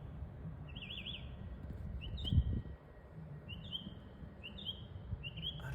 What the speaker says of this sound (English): That could be a mockingbird that we're hearing?